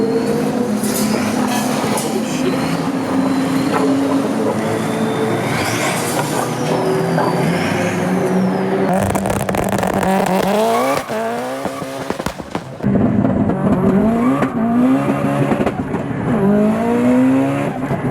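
An 850 hp 2JZ-swapped Subaru STI running 42 psi of boost on drag radials accelerates hard, its engine roaring loud and close through rising revs with a brief dip around a shift, continuous for the whole stretch.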